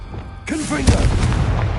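A Confringo blast spell explodes in the video game Hogwarts Legacy, a sudden loud boom with a sweeping magical whoosh that rumbles and decays over a second, with a voice heard around it.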